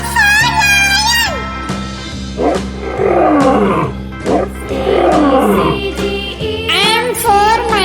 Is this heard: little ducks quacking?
no